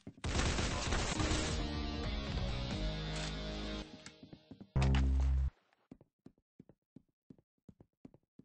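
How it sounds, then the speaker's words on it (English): Gunfire in the video game Arsenal: a dense, sustained burst of loud game audio with a heavy blast near the middle, followed by a string of sharp, separate shots or knocks toward the end. "The bullet exits the chamber with a sudden shout"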